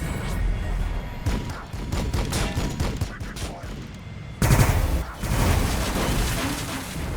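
Battlefield weapons in Warhammer Battlesector, including infernal pistols, hand flamers and a multi-melta, fire in dense overlapping bursts and bangs, growing heavier and louder midway, with a faint voice in the mix.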